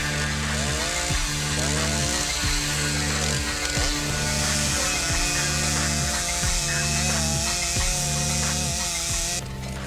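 A chainsaw drones steadily and loudly close by for the whole stretch, its pitch dipping and rising as it bites, with a voice faintly under it.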